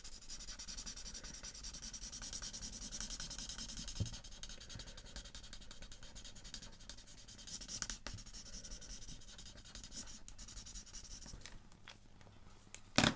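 Alcohol marker with a fine nib scribbling quickly across paper while colouring, a steady close scratchy rubbing that runs continuously, with a few small taps and shifts along the way and no talking.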